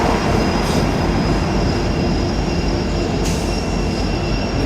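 An EMD SD70M-2 and SD60F locomotive-led train rolls steadily into a rail yard, a loud continuous rumble of wheels on rails with faint squeal, no talk.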